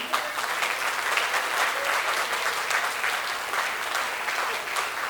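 Wedding guests at an Armenian wedding reception in a hall applaud the couple's parents, with steady, dense clapping from a full crowd lasting throughout.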